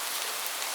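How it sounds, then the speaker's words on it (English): Heavy rain drumming hard on a roof, a steady dense hiss with no breaks, close and fairly loud, alone without any voices. "The rain was hitting the roof hard."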